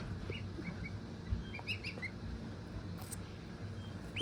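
Faint, high little peeps from newly hatched goslings, scattered chirps coming in short bursts over a low background rumble, close by.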